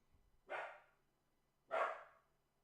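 Two separate barks from a dog, spaced about a second apart, each short and moderately loud with quiet in between.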